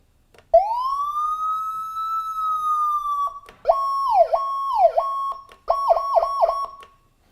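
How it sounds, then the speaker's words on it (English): A loud electronic siren: one long rising wail, then a slower yelp cycling several times, then a fast rapid warble, each separated by brief gaps. "automatically adjusting tones when the vehicle is responding, full lights, full siren"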